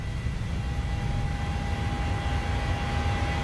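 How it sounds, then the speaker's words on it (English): Simulated airliner on its takeoff roll and rotation in Microsoft Flight Simulator 2020, a steady loud roaring engine drone with a faint sustained whine, continuous and without talk. "We were cleared for takeoff. Okay, V1, rotate."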